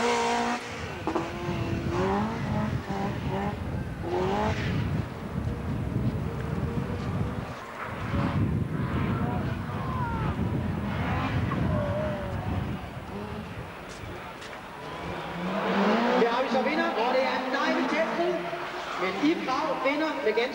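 Rally cars race past as a Swedish entry, start number 11, crosses the finish line; engines swell and fade under continuous excited commentary, with wind buffeting and a louder, rising roar toward the end.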